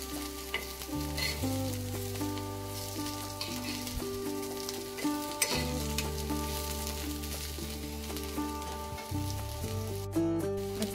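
Green pea veg cutlets frying in a pan after being flipped give a steady, close sizzle throughout, with tonal background music playing over it and no talk.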